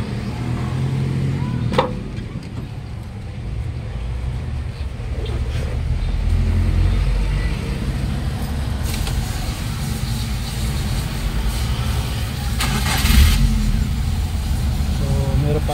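A Foton Gratour 1.2 with a check-engine light on starts and settles into a steady idle with a low rumble. Brief clicks and clatter come through, and the engine carries on running under ambient noise.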